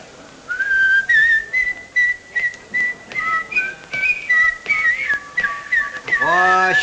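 A person whistles the Irish tune The Wearing of the Green, a clear, bright melody in short phrases, loud and close, with a voice starting to speak at the very end.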